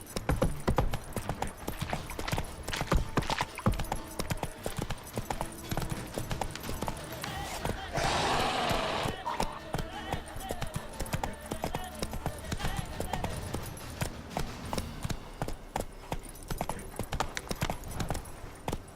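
Roach the horse gallops in The Witcher 3 game, a steady clip-clop of hooves running throughout under game music, ambient noise and occasional male speech, with a brief burst of louder noise midway.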